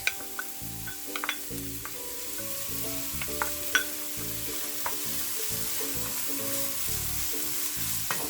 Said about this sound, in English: I am going to saute those a little until they release some flavor and some color into the olive oil